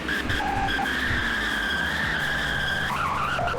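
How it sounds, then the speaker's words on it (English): A car in the Roblox game Greenville brakes hard, its tires skidding with a sustained high squeal over engine rumble for about three seconds before the screech breaks up. "and I'm going to brake now"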